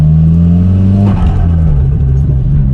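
A Nissan Silvia S15 engine revs and accelerates loudly up close, its steady low drone rising and shifting pitch midway with no one talking.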